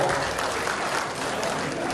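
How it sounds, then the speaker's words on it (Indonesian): A crowd at a PKS regional coordination meeting in East Java claps for the party, a dense, even roar of many hands close by, sustained without pause. "Tepuk tangan buat PKS."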